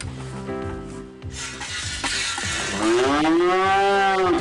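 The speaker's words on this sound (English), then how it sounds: "Okay, Chow, now we got the cows in." Cows moo loudly in the video game Head to Toe 2, several drawn-out lowing calls rising and falling over a steady background hiss, with no talk.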